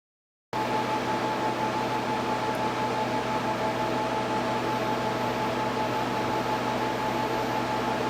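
An EcoFlow Wave portable air conditioner starts and runs with a constant loud whooshing hum and a faint steady whine, unchanging throughout.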